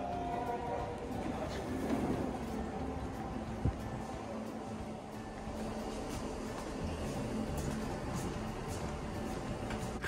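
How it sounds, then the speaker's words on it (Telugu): A driverless, fully automatic SkyTrain in Canada runs steadily with a continuous rail rumble and hum throughout, moderately near, with a brief clunk midway and no talk over it. "సో నేను మీకు స్కై ట్రైన్ చూపిస్తా ఎట్లా ఉంటుందో."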